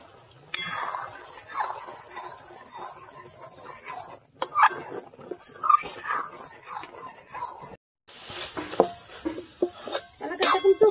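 Kalakand mixture of milk and cardamom powder being stirred in a pan, with soft repeated scraping and clinks of a utensil against metal, fairly close, with brief pauses and faint talk in the background.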